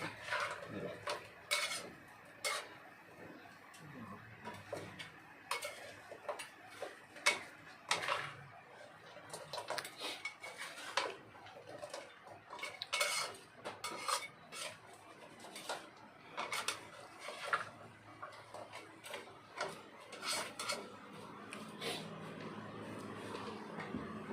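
Stirring and frying dry chili stir-fry in a large wok, steady metallic scraping and clanking of a spatula against the pan with a constant sizzle, close and continuous throughout.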